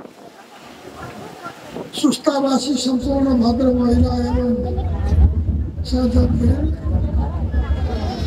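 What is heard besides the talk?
strong wind blowing into the microphone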